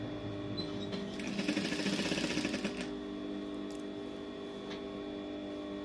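Sewing machine stitching a small girl's caftan, running in a quick steady whir of needle strokes for about two seconds before stopping, close, with a faint hum before and after.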